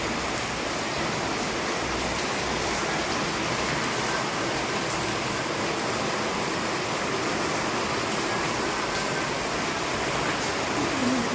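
Heavy rain falls at a temple in Junagadh, a soft, even hiss of downpour that holds steady and unbroken throughout, fairly faint and with no voices.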